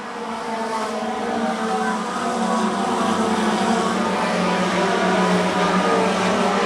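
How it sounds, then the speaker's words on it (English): Race cars in the Boss Hogg 150 race roar together in a steady, continuous engine drone throughout, loud and sustained with no pauses, their combined motors blending into one dense wash of sound. "as he gets to the outside of Tiana Kibbe in the race for the lead."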